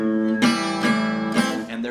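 Delta blues guitar sounds a repeated two-note bass figure, twangy plucked strings ringing with clear attacks about every half second, close and unaccompanied.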